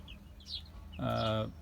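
Faint, high peeps of small native domestic chicken chicks, followed by one louder, short, lower call.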